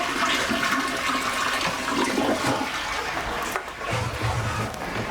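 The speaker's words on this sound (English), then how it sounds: "Do I flush the toilet?" A toilet flushes in a small bathroom, a loud steady rush of water running the whole time, then a lower gurgling refill near the end.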